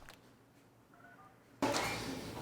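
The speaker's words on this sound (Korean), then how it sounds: "취재 시작과 동시에 이어지는 잇따른 신고 접수 전화." Touch-tone beeps of a telephone being dialed in a police substation at night, a few short tones quietly at first, then a louder burst of room noise.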